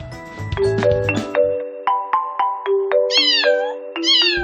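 A pet cat meows repeatedly, a string of short, clear, rising and falling calls one after another, starting over a brief bit of background music and then heard alone.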